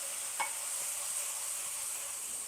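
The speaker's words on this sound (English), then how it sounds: "We're going to let that cook and reduce just a little bit" Piccata pan sauce with garlic and oregano simmering and reducing in a pan, a steady soft hiss and sizzle with one faint utensil tap, quiet and unbroken, no voices.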